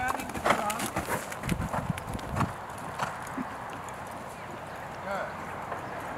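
Horse hooves cantering in a riding lesson on a circle, a rhythmic clip-clop heard at moderate distance alongside an instructor's voice.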